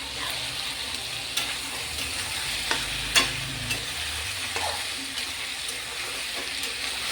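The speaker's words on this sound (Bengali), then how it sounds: "পেঁয়াজটাকে মাংসের সঙ্গে সুন্দর করে ভেজে নেব" Onion frying with chicken meat in a pan, a steady close sizzle with occasional light clicks of stirring, and no speech.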